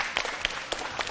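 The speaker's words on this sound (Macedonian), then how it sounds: "Па така е, аплауз." Short burst of applause from children at a school quiz event, a few sharp distinct claps standing out over a softer rattle of clapping, brief and fairly close.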